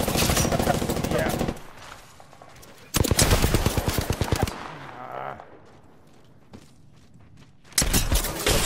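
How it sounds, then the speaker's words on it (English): Loud automatic gunfire in a video game fires in long, dense bursts, with quieter stretches between them where footsteps and thuds can be heard and voices talk faintly. "She's shooting at you."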